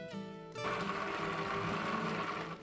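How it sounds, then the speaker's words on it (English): Electric blender whirring as it mixes ricotta gnocchi dough made with flour, egg yolk and herbs, motor rising from a lower hum to a steady loud grinding whir that continues without talk. "I put all the ingredients into the blender"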